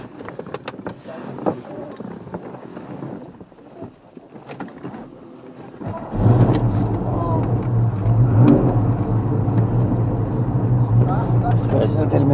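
Car on a race track, its engine rumbling up to a loud steady drone after a quieter stretch of handling noise, with people talking over it.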